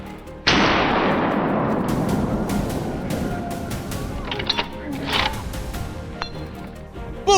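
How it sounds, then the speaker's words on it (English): A single loud, crisp gunshot cracks out during an outdoor wild boar hunt, its sharp blast trailing off into a long, rolling echo, followed by scattered faint rustles and knocks. "A crisp gunshot rang out the moment the target appeared."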